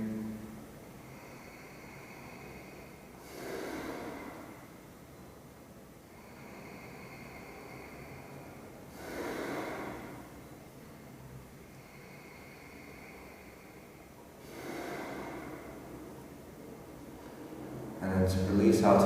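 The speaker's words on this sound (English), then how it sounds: "deep ujjayi breathing" Deep ujjayi breaths taken during a yoga posture with one leg behind the head, slow rhythmic inhale-exhale swells recurring every five to six seconds, close and soft over a quiet room.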